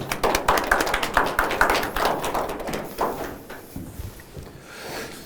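Audience clapping welcomes a lecturer to a spring lecture series on Kant's life and philosophy. Dense, steady applause fills the room for about three seconds, then thins out and fades.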